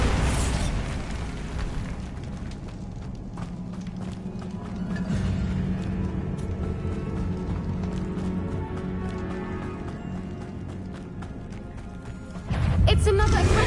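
A Bombarda blasting spell goes off in a cave in Hogwarts Legacy, a rumbling explosive burst with crumbling debris that swells midway and hits hard again at the end, with voices talking over it.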